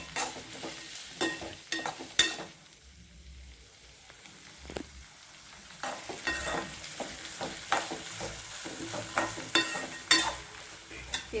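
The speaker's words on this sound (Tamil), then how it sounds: "இதெல்லாம் நல்லா எண்ணெயிலே வதக்கணும்." Chopped vegetables and tomato sauté in hot oil for semiya upma, giving a steady sizzle with repeated scraping and stirring clatters that rise and fall at close range, with no one speaking.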